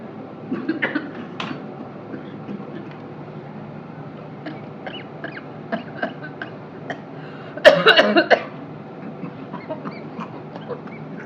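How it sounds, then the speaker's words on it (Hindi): A short burst of harsh coughing stands out near the middle, surrounded by quiet clicks and rustling in a room. "मुझे खांसी लग गया"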